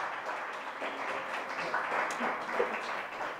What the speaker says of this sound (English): Please give a round of applause to our wonderful volunteer team